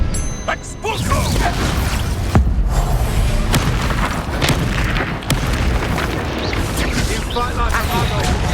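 Booming explosive spell blasts from a magic duel in Hogwarts Legacy, several sharp impacts and crashes scattered across a busy battle soundscape, with voices shouting amid the combat.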